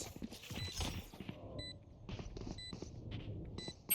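In the tactical shooter Valorant, the Killjoy alarm bot gives short electronic beeps, a few sharp pulses cutting through gunfire and movement noise during a match.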